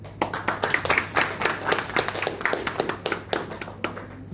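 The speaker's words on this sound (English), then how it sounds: "Give applause, please." Audience clapping after a student group's presentation on poverty and the SDGs, a steady run of many hands applauding together, fairly close and alone with no voices over it.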